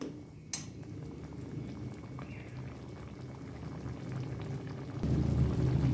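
Paneer simmering in a pan for malai paneer gives a steady, close bubbling and soft hiss throughout, with one brief sharp clink early on and a slightly louder stretch of bubbling near the end.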